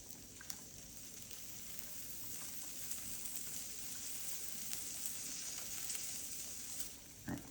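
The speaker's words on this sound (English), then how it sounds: "Just a little sear." Steady, quiet sizzle of A5 wagyu beef searing on a Zojirushi indoor grill, a continuous crackle with a few faint sharper pops and no talking.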